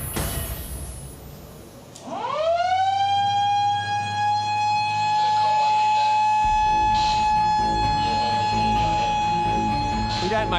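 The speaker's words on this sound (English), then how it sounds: "Can I put the siren on?" Lifeguard shark alarm siren at a beach winds up quickly and then holds a loud, steady wailing tone, with faint voices around it.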